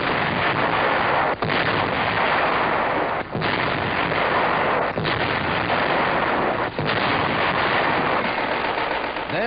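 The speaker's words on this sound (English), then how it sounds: "Before long, the big guns are ready to go into action and pound the Hun." Heavy artillery guns fire in a 1945 wartime newsreel, loud repeated booming blasts that run almost continuously, with dense rumbling and crackling between shots and no speech.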